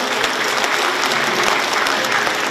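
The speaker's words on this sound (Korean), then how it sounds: "여러분 큰 박수로 환영해 주시기 바랍니다." A crowd claps continuously and loudly in a hall at a book-launch celebration, welcoming guests; dense, even applause with no letup across the whole stretch.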